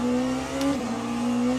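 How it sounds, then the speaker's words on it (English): A hypercar engine in the Le Mans Ultimate racing game holds a steady, droning high-rev tone. The pitch dips briefly mid-pass before settling back into a constant loud whine. "Hypercar through the first chicane"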